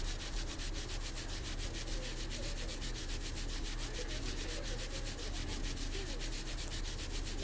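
Steady, rhythmic rubbing and scrubbing of a grimy phone in the Restory electronics repair game, a continuous dry swishing texture at an even level with no voices over it.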